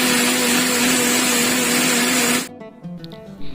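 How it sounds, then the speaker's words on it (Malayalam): A blender whirs steadily while blending strawberries for a strawberry milkshake, a loud continuous motor drone with a strong hum that cuts off abruptly after about two and a half seconds, leaving faint clinks and handling sounds. "ഇനി നമുക്കിതൊന്ന് അടിച്ച് വെച്ച് നല്ല രീതിയിൽ ഒന്ന് അടിച്ചെടുക്കാം."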